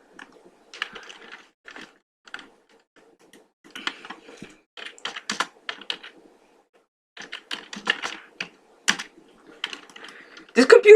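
Key clatter from typing on an old computer keyboard, each light press landing loud and slappy in irregular bursts, with a voice talking between them.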